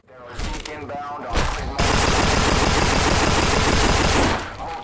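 Rapid bursts of gunfire from the zombie survival video game No More Room In Hell rattle loudly and continuously for several seconds, preceded by a few separate shots, with a voice briefly audible at the start.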